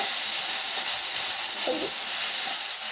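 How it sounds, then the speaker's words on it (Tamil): Tomatoes sauté with salted onions in a pan for a chicken varuval, giving a steady, even sizzling hiss throughout with no talk. "உப்பு தக்காளியை சேர்த்துக்கலாங்க. தக்காளியை நல்லா வதக்கிக்கலாங்க."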